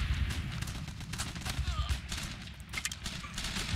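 Gunfire in the strategy game Guns Up!: a steady crackle of scattered shots and bursts over a low rumble, a busy battlefield texture with no single dominant blast.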